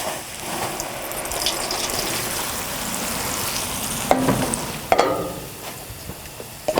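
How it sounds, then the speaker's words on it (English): Sliced, flour-coated onion sizzles in hot oil on a barbecue, a continuous crackling fry with a few sharper clatters and stirring scrapes close by. "you're going to take that onion right to your hot oil on your barbecue"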